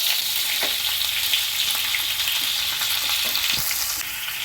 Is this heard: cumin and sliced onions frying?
yes